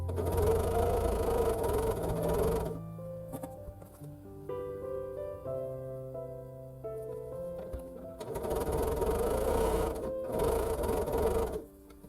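A sewing machine stitches quilt block units for an airplane-pattern Christmas sampler in two bursts of fast, steady whirring, with a quieter pause of tonal hum and clicks in between.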